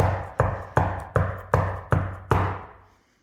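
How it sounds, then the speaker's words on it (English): Seven evenly spaced knocks on a door, firm and close, each ringing briefly before the next, with the last fading out into quiet. "Keep on knocking."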